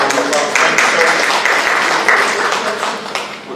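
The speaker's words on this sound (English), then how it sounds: "Councilman Harvey, let's give him a round of applause." Dense applause from an audience at a city council committee meeting, steady and fairly loud throughout, tapering slightly toward the end.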